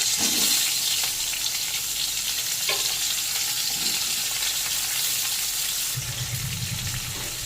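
Potato, eggplant, pointed gourd and pumpkin fry in a pan with a continuous loud sizzle, with a few spoon scrapes and a burst of clatter and hiss near the end.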